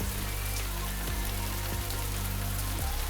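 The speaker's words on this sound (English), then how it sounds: "As I shot out into the pouring rain, I saw Peter standing there" Heavy pouring rain from a video game, a steady dense wash of rainfall hissing continuously with a low rumbling bed underneath, loud and close throughout with no voices.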